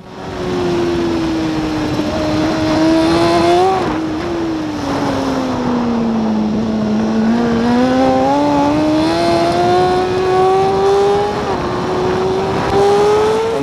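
A racing motorcycle lapping the Portimao circuit, its loud engine note climbing and dropping as it shifts up through gears on a downhill stretch, continuous and close, no talk.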